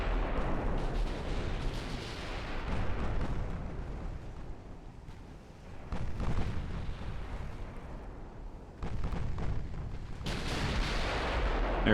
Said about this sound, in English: Let's get our secondaries going on him.